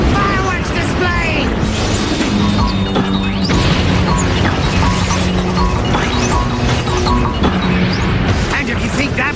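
Cartoon fireworks explosions from the Powerpuff Girls Z anime finale, a dense, continuous barrage of crashing booms, crackles and whizzing bursts, loud and unbroken, with voices and music mixed underneath.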